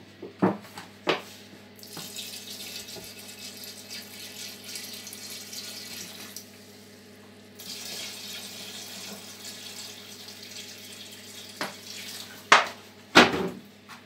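Warm filtered water at about 45 degrees poured for homemade plum wine, a steady splashing stream running for several seconds, pausing briefly, then resuming, with a few sharp clinks of a vessel near the end.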